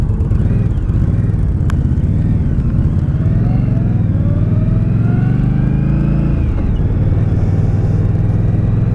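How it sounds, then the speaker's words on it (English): A 2018 Indian Scout motorcycle engine revs with a throaty exhaust rumble and a whirring note, holding steady and close, then dipping and rising again near the end. "It's got a good throaty sound to the exhaust when you're sitting on it."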